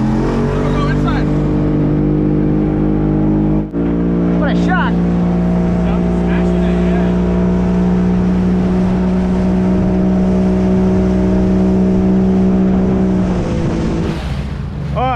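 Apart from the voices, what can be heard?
boat outboard motor running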